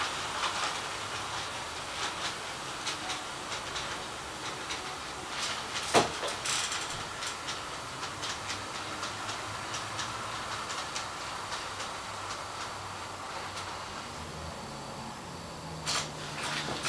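A train rumbles steadily past at close range through a signal block with rhythmic clattering of rail cars, a sharp metallic clank near the middle and another toward the end.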